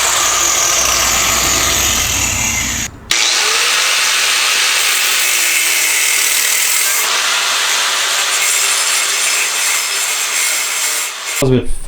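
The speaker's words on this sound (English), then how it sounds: "Just a no guard on the fucking disc grinder." A disc grinder with no guard cuts through metal brackets for an RX7 bucket seat mount, a loud continuous whining grind lasting nearly the whole stretch with one brief break near the start.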